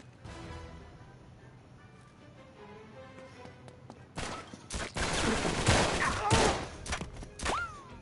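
Gunfire in the Uncharted 3 video game: a quieter stretch of game sound gives way to a loud burst of several sharp, irregular shots and impacts toward the end.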